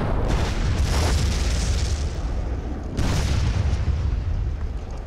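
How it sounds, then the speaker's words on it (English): A bridge is blown up during a tank battle. A deep, heavy explosion rumbles at close range, followed a couple of seconds later by a second booming blast with a long rolling rumble. "The defenders blow the bridge."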